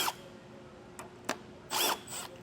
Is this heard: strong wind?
no